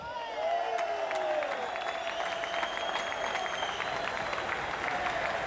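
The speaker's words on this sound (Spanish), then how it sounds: "Fuerte el aplauso a la organización." Concert audience at the Faro 2015 festival applauds the organisers with sustained, dense clapping and some cheering, steady and loud throughout after a brief quieter start.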